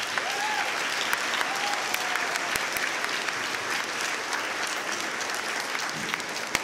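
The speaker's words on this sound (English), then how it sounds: "Let's give our senior class a round of applause." Sustained applause from a crowd at a school senior class ceremony, dense steady clapping with a brief whistle near the start, continuing throughout without talk.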